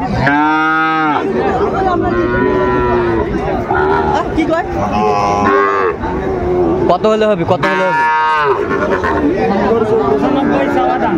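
A Sahiwal bull calf lets out several loud, drawn-out moos at a busy cattle market, close by, with bargaining voices and crowd chatter around it.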